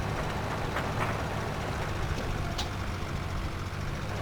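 Small farm tractor engine idling inside a cramped barn, a steady low rumble with broadband noise holding constant throughout, faint clanks over the top, no talking.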